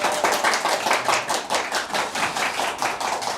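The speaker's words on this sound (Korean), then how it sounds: "뜨거운 박수로 시작하겠습니다" A welcoming round of applause for chef Kang Min-gu, owner of the three-Michelin-star Korean restaurant Mingles, a steady rush of clapping from a nearby audience with a rhythmic pulsing feel.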